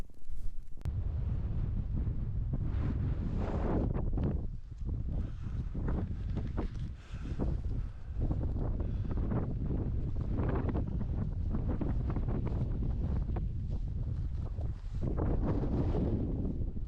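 Strong gusting wind buffets the microphone on an open countryside hike near the Wansdyke, a loud, rumbling roar that surges and dips throughout with no voices.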